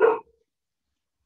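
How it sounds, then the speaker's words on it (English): A dog outside gives one short, loud bark at the very start, then silence. "that would be my dog outside barking and growling"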